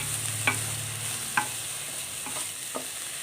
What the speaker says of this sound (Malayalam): നന്നായിട്ട് ഒന്ന് ഇളക്കി യോജിപ്പിച്ച്